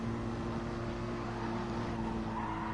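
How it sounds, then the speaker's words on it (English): A Mercedes racing engine in a video game drones steadily through the Eau Rouge corner, a sustained tonal whine with harmonics that rises slightly near the end, heard alone without talk. "let's have a listen to this Mercedes engines going through Eau Rouge."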